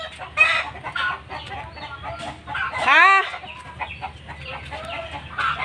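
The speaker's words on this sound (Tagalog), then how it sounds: "Nagbabahog siguro ng manok at maiingay ang manok." Chickens cluck steadily in a yard with a rooster crowing loudly once near the middle, close and clear over outdoor background noise, with a brief spoken word.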